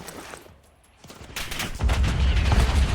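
Rapid bursts of gunfire ring out in a shooting video game with snipers: a quieter lull first, then sustained, loud automatic fire that dominates the rest of the clip.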